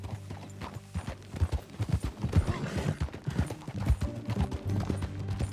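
Horse hooves clip-clop in a steady rhythmic gait while riding in Red Dead Redemption 2, close and continuous, with game sounds layered over the trotting.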